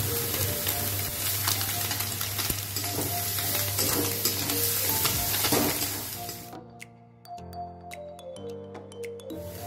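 Ground spice paste with turmeric frying and being stirred in a pan for a Bengali small-fish dish, a steady loud sizzle that drops away sharply toward the end, leaving quieter scraping and clinks.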